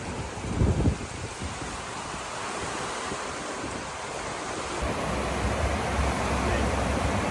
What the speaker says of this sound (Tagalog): Yung ulan po sa labas ay talagang humahampas may kasamang malakas na hangin.